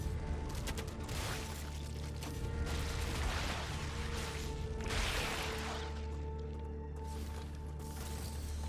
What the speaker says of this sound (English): And what you hear here is potentially a lot of vermin coming our way.